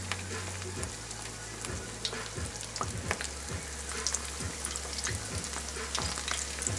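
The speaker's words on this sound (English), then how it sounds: "Go ahead and put that baby in there. Watch it get done." Thin chicken schnitzel coated in egg wash fries in a pan with a dense, steady sizzle that runs throughout, with occasional crackles and pops close by.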